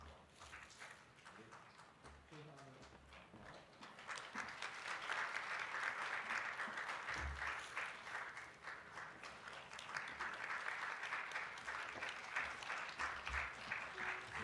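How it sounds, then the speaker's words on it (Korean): Congregation applause at a university church graduation worship service, starting moderate and swelling after a few seconds into a dense, sustained wash of many hands clapping that fills the room until the end. "여러분 축복하는 마음으로 함께 박수해 주셨으면 좋겠습니다"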